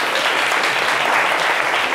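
Loud, dense audience applause in a television studio audience, a short continuous burst of clapping heard close and alone.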